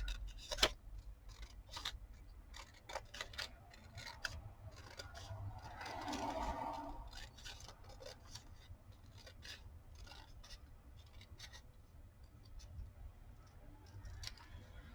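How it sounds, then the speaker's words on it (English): Scissors trim a thin paper strip for a two-tone paper bead, giving faint, quiet snips and light rubbing at close range against a low background hum, with no talking. "So I'm just going to trim this one out."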